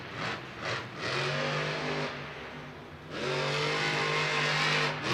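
Monster truck engines roar and rev loudly inside a domed Monster Jam arena in St. Louis, with sustained throttle surges and a deeper rise near the end over crowd-filled ambience.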